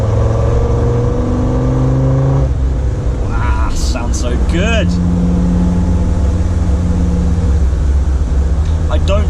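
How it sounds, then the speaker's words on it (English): A Land Rover Defender Td5 engine pulls steadily during a hill climb, a loud continuous drone whose pitch shifts with the load, while a person talks over it in the middle stretch. "I'm doing a hill climb in my Defender."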